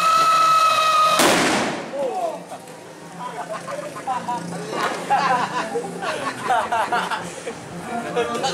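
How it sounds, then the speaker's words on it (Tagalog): A high whistling tone ends in a sharp, loud whistle bomb firecracker bang at New Year in a Philippine subdivision, followed by crackling pops and people chattering nearby. "May whistle bomb."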